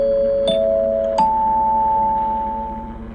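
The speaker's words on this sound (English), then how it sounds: "In the morning, I woke to more chimes, but these were sounded by the steward." Chimes sounded by a steward on an airliner: two clear ding tones ring out a moment apart, each leaving a sustained ringing note over a steady cabin hum.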